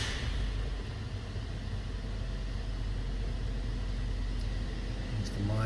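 A 2020 Suzuki Jimny SZ5 idles steadily after starting, its low engine hum and broadband noise constant and close throughout, with a brief faint tick near the end.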